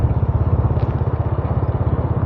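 Scooter engine on a ride down a hill at Wang Kelian viewpoint, a steady low pulsing putter with rhythmic throbbing throughout, close and continuous, no talk.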